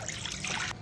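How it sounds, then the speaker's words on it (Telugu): Water pours into a kadai before boiling potatoes and chicken, a short, faint trickling splash that cuts off abruptly before the clip ends. "ఉడకబెట్టుకోవడానికి వాటర్ తీసుకుంటున్నాం. ఇవి కళాయిలో పోస్తున్నాం చూడండి."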